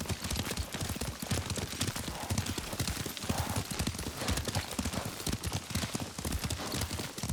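Horse hooves clip-clopping at a steady riding gait in the video game Ghost of Tsushima, a continuous dense rhythm of hoofbeats with an occasional faint whinny, loud and close throughout.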